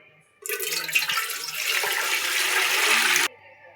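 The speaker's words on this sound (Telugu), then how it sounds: "1 లీటర్న్నర వాటర్ దాకా పోస్తున్నా." Water poured from a small vessel into a pot on a stove, about one and a half litres for a milk-based sweet, a steady close splashing stream running nearly three seconds before stopping abruptly.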